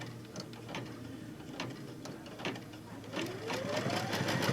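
An embroidery machine starts stitching a mug rug in the hoop, giving a steady mechanical whir with fast, regular needle ticks that grow slightly louder, fairly quiet and with no voice over it.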